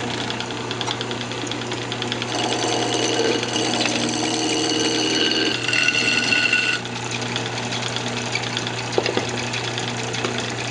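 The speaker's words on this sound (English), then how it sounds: "Turn the lathe speed all the way back up." A wood lathe spins a workpiece held in a chuck at full speed while it is trued up, producing a constant loud motor hum with shifting tool chatter and scraping layered on top, near and without talk.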